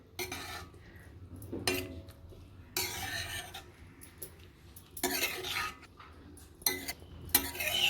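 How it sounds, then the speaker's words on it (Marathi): A spoon scraping and stirring dal into spinach in a metal pot in several separate bursts, with quiet gaps between the strokes. "सगळी डाळ मी पालकमध्ये टाकते आणि चांगलं मिक्स करायचे आहे"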